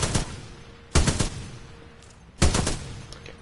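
Weapon fire in the shooter game Titanfall 2, three separate short bursts of several rapid shots each, loud and close with quiet gaps between them.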